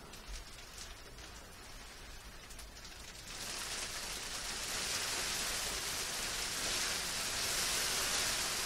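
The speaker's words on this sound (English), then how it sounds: "Oh, listen to that rain." Steady rain falling outdoors, a broad hiss that swells partway through and grows heavier and louder toward the end, with no talking.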